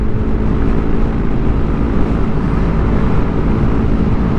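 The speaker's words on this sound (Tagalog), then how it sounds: "Kalmadong-kalmado yung makina habang nagme-maintain ng 75 to 80" A Yamaha Aerox V1 scooter with an upgraded CVT cruises steadily at 75 to 80 under a steady, dense engine drone mixed with wind rush, loud and unbroken throughout.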